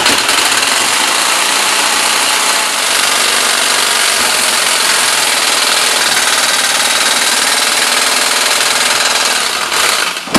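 A power saw cuts steadily through tough material, a continuous loud, broadband grinding drone with a buzzing motor tone that holds for about ten seconds, close and unbroken, fading slightly at the end.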